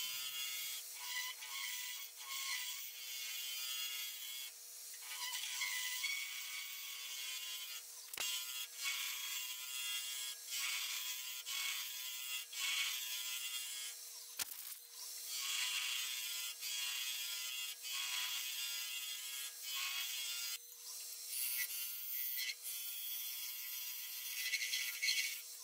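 Hercules turning tool cutting into resin and burl wood on a lathe: a steady, close, rasping shear that runs continuously with slight surges and no talk.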